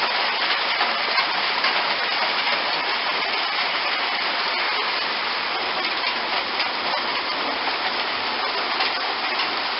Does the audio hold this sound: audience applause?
no